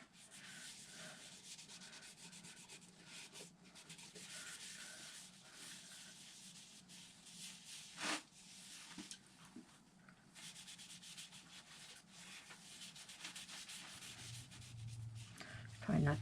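Burl wood and epoxy on a woodturning piece are rubbed and sanded in a continuous soft scraping, close and fairly quiet, with a few sharper knocks and a louder burst at the very end.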